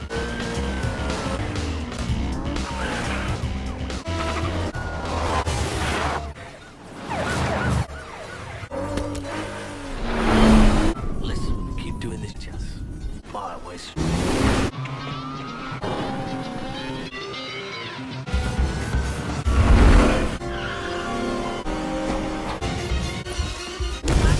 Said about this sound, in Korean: 형님은 본격적으로 운전 실력을 뽐내며 경찰들을 따돌려버립니다